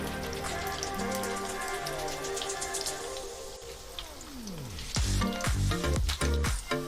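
Rava appam batter sizzles and crackles as it fries in hot oil, a dense close hiss with bursts of popping growing louder toward the end.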